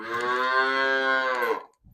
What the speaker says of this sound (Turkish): Buzağlar acıktı zaten böğürmeye başladı.